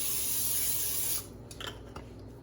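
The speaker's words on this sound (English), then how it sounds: "spray a baking dish with some nonstick cooking spray" A short hissing burst of nonstick cooking spray onto a baking dish lasts about a second, then stops, followed by faint rubbing and handling noises.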